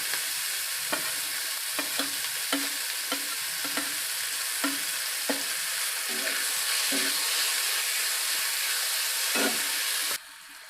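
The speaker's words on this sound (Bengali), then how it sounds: "পেঁয়াজটা আমরা ভেজে নেব হালকা লালচে ব্রাউন করে।" Chopped onion frying in oil with bay leaf, cloves, cardamom and cinnamon, a steady close sizzle broken by repeated scraping stirs of a spatula, for a potato and pointed gourd curry; no talk, the sizzle dropping away at the end.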